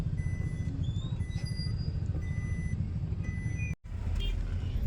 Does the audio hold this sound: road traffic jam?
yes